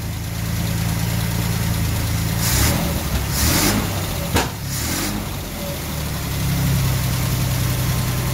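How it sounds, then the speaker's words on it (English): A 1964 Triumph 2500 barn find runs with its choke on, the engine idling roughly and revving a few times, and a sharp backfire cracks out midway through. The sound is loud and close, with no voices. "Bit of a backfire."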